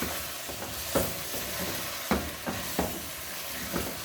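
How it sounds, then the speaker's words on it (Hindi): Dry coriander powder frying in a pan during chicken curry preparation, a steady broadband sizzle with a few sharper clicks and scrapes of stirring spaced through the stretch, close and moderately loud, no talking. "1 टेबलस्पून इसमें मैं भर के सूखा धनिया पाउडर शामिल कर रही हूँ अभी। और इसको हम इसके साथ इसको अच्छी तरह से फ्राई कर लेते हैं।"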